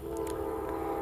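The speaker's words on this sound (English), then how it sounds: "We're watching a Norfolk Southern. I don't believe it has any freight cars to it." Norfolk Southern locomotives running light with no freight cars behind them, a steady loud engine drone with strong low tonal hum and brief higher bursts, continuous and close.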